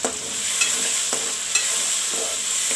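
Green peas tossed into a pan for a cauliflower dish, sizzling steadily with a few clanks and scrapes of a spoon stirring them, close and fairly loud, no voices.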